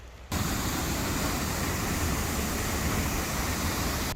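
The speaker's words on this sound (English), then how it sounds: "I can hear the water." Rushing water at a waterfall in El Salvador, a loud, broad, steady roar that starts abruptly and holds constant with no voices.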